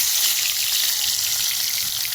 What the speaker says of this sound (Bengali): তো আমার তেলটা গরম হয়ে গেছে, আমি মাছ এক এক করে ছাড়বো